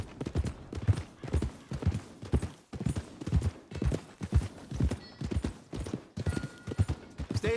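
Horse hooves clip-clop steadily in the Red Dead Redemption 2 video game, a close, even walking rhythm of hoofbeats continuing throughout with no talk over it.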